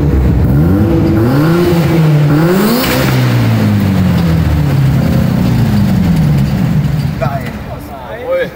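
A car engine revved at idle in a trade show hall until it blows up, its revs rising and falling over several seconds and ending in a brief sharp jolt, with voices around it.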